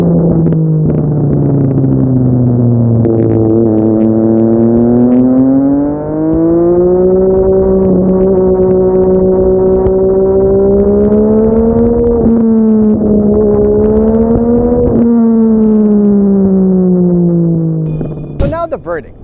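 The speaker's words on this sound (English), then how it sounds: "sounds better when you're riding the bike and it's under load and you switch gears and you hear everything go" An MV Agusta Dragster 800RR three-cylinder motorcycle engine howls loudly under load, pitch climbing and dipping through smooth quick-shifter gear changes for a long continuous run, ending in a brief rev burst.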